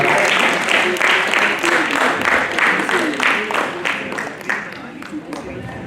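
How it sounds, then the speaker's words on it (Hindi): A crowd at a youth parliament event at Hansraj College applauds steadily, dense clapping that gradually thins toward the end, with voices murmuring underneath. "एक बार जोरदार तालियों के साथ।"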